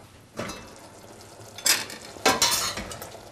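A spoon stirs soy mince and aubergine curry in a pan with three or four distinct scraping strokes against the metal. A soft sizzle of simmering runs underneath.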